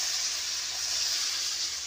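Water added to a hot pan of onion and potato, a steady loud hiss of steam with a bright, even texture and no talking.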